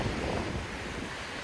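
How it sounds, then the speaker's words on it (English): Ocean surf breaking on a sandy beach south of Narita, Japan, on a breezy November day: a dense, steady wash of rolling waves mixed with wind rumble against the microphone, with no voices. "The waves aren't that big."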